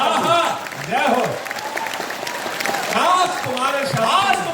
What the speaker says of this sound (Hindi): ताली जरा ढंग से बजा